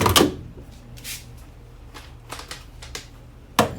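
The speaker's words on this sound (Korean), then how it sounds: "예, 먼지 필터를 끼우고" A lint filter is pushed into an LG Tromm electric dryer, giving a few sharp plastic clicks and light scraping knocks close up, with a final firm snap as it seats.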